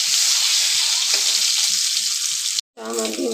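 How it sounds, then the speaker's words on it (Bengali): An egg frying in a little hot oil until browned gives a loud, steady sizzle for nearly three seconds. It breaks off briefly, then a voice speaks over a softer hiss. "ডিমটা আমি লাল লাল করে ভেজে নেব"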